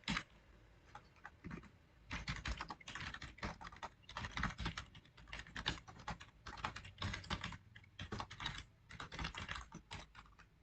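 Someone types C++ code on a computer keyboard. Fast clusters of close, crisp keystrokes come with short pauses between them, and no talking is heard.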